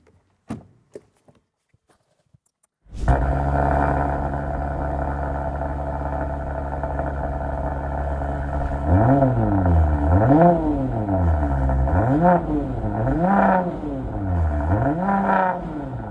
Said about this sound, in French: on a tous envie d'une seule chose, c'est d'entendre le son du moteur